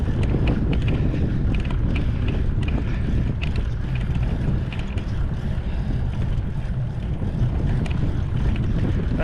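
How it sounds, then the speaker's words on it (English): A cold north wind buffets the microphone on a small boat cruising along. A loud, constant low rumble of wind blast and water runs throughout, with no voices. "There's been a cold wind blowing out of the north."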